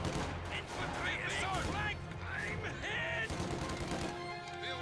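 MG42 machine gun fire in a strategy war game, rapid crackling bursts heard alongside heavy mortar bombardment and battle noise, with whistling tones layered over a dense, constant mix.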